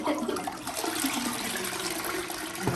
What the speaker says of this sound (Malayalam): ഫ്ലഷ് ചെയ്യാൻ നോക്കി.